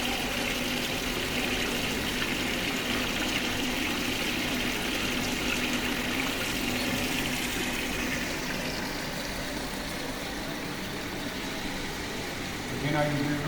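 Water rushes through a pipe at increased velocity in a flow-demonstration rig, heard as a steady, continuous broadband hiss and gurgle at moderate level throughout.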